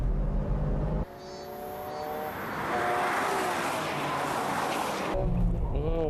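A Nissan GT-R racing car at Fuji has engine trouble and struggles to rev, giving a loud, steady, strained drone with rising whine that hangs flat instead of climbing, inside an on-board cabin setting.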